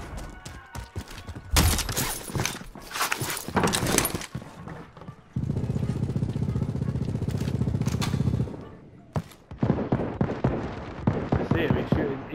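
Gunfire in Call of Duty: Modern Warfare: loud, rapid bursts and sharp cracks come in clusters, with a sustained stretch of heavy continuous firing in the middle and scattered shots at the end. A voice talks intermittently over the shooting.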